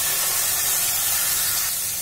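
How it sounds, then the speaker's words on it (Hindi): Tomato paste hits frying masala in a pan, giving a loud, steady close-up sizzle with a broad hiss that holds evenly throughout. "अब इसके अंदर हम टमाटर का पेस्ट डाल देते हैं"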